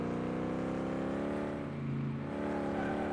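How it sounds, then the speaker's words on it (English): A steady, loud car engine drone in the video game Drifting Simulator 2018, with a rich harmonic hum, dipping slightly in pitch midway before holding steady again. "the engine's super loud on this thing"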